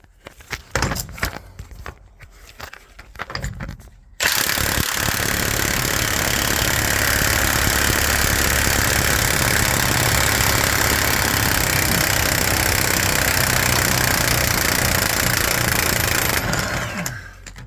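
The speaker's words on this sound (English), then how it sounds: "Right, let's get a socket on one of these U-bolts, eh? See how she comes undone." Loud, continuous hammering rattle of a powered socket tool undoing seized U-bolts on the rear axle of an Iveco 75E15 truck, starting abruptly after a few seconds of quieter clanking and running steadily for about twelve seconds before stopping.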